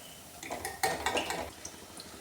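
Freshly fried pakoras for Punjabi vesan curry are lifted from a pan onto a plate, a short cluster of close metallic clinks and scrapes of utensil against cookware.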